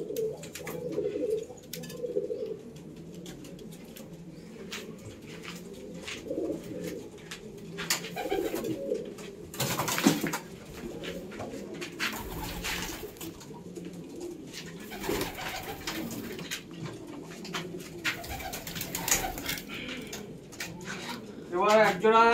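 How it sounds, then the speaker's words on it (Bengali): A pair of domestic pigeons, a red-pied hen and a red-headed cock, coo in a loft with low rolling calls. A person talks nearby and occasional knocks and handling noises cut in. "এটা ডান হাতে যেটা হয়েছে এটা আমার লালশিরা নর। দেখুন দুটো পায়রা।"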